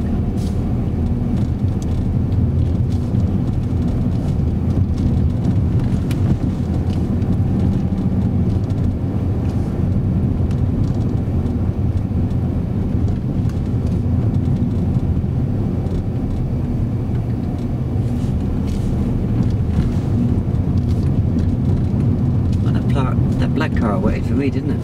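A car drives on a road near a learner driver's vehicle, with a steady low rumble that holds throughout and rises slightly toward the end as it passes.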